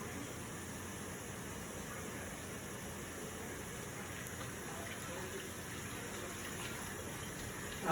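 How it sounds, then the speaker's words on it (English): Tap water running steadily while mushrooms are rinsed in a home kitchen, a constant even gushing hiss that continues unbroken at moderate loudness throughout. "I washed my mushrooms real good before I put them on the plate"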